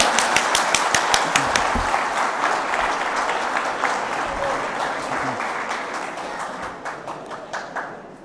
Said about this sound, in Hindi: आपकी भरपूर तालियों में तशरीफ़ लाते हैं मसूद सागर साहब।